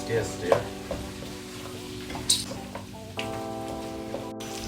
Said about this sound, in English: Now stir.